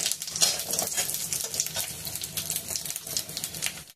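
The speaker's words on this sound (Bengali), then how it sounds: "তারপর দিয়ে দিলাম তেল, দিয়ে তেলে ভেজে নেব।" Lentil dumplings (bori) frying in oil in a pan after dry roasting, a dense, bright, continuous crackling sizzle with stirring, close and fairly loud, with no voices.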